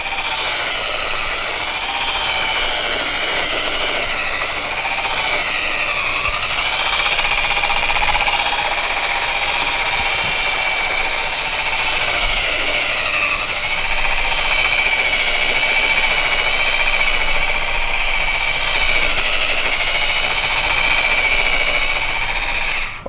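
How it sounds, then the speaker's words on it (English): A buffing machine polishes a granite surface with crystallizer under a steel wool pad, a loud continuous whirring grind that stays steady throughout with slight wavering in pitch. "all I've done is buff the crystallizer with the steel wool until it's dry"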